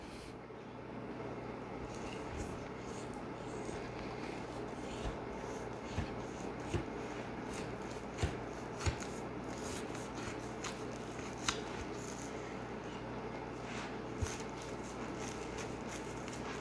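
A knife works through a ribeye rib roast, splitting it down the middle between the cartilage: a low, steady scraping and rasping with a few faint sharper ticks, quiet and close, with no talking.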